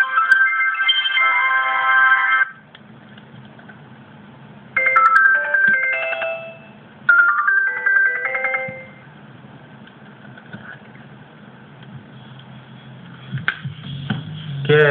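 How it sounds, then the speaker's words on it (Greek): Built-in ringtone of a Sony Ericsson W300 phone: a bright synthetic melody in bursts separated by pauses, with a low hum beneath throughout and a louder final burst near the end, no speech. "Και αυτός είναι ο φυσικός ήχος του Sony Ericsson W300"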